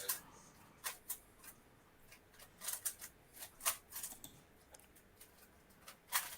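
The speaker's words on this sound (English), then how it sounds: "I'm getting clicking noise in the background" A Rubik's Cube being turned while it is solved: a string of quiet, irregular plastic clicks and ticks, some clustered in quick runs, in the background with no speech.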